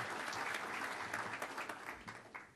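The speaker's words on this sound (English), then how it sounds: "Give him a round of applause." Audience applause at an awards conference, a steady wash of many hands clapping that begins to thin and fade toward the end.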